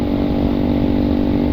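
Motorcycle with open pipe exhaust revving at a group ride in Bataan, a loud close steady buzzing drone held at high revs with no talk.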